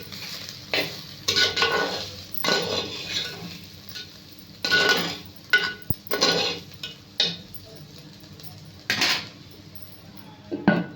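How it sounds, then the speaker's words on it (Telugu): Moong dal and amaranth leaves being stirred as they fry in a pan, with irregular scraping and clinking of a spoon against the metal over a low sizzle, in bursts with quiet gaps between. "మూత తీసి అప్పుడప్పుడు కలుపుతూ ఉండాలండి."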